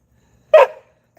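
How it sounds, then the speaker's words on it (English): A single sharp, loud bark from an Americane da Presa dog close by, followed by a faint short yip, with silence around it. "I don't want to hear you barking."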